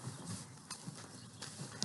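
A horse's hooves clop softly on the ground at a ranch, a few slow, evenly spaced steps, faint and close, against steady background noise.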